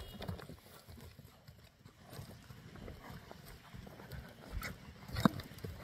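A large horse at a horse market, faint hoof clops and shuffling on the ground amid quiet market ambience, with a brief louder knock near the end.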